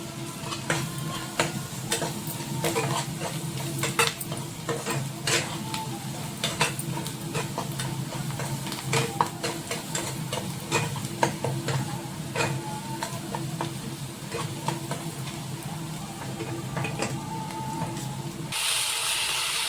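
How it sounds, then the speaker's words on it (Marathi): Fresh small shrimp (jawla) frying in oil with turmeric, garam masala and red chilli powder, producing a steady close sizzle and crackle with scattered popping and stirring clicks throughout, no voices. "आपण जवळ टाकलेला आहे तेलामध्ये, आता फ्राय करून घ्यायचं आहे।"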